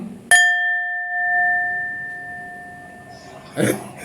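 A single strike on a Thai temple gong rings out with a sustained, pure tone that slowly fades over several seconds, followed by a brief rustle at the end.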